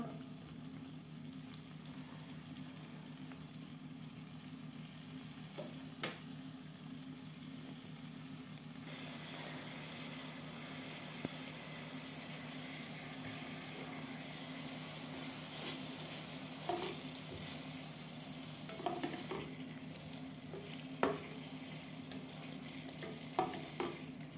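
Carrots frying in a pan and being stirred, a faint continuous sizzle with scattered soft scrapes and taps of the utensil, quiet and close, with no talking.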